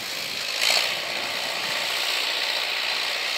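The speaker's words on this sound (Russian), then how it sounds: "Так, трактор." In winter snow on Moscow's Sparrow Hills, a tractor clearing snow gives a faint, distant mechanical rumble and clatter, steady throughout with one brief louder swell early on.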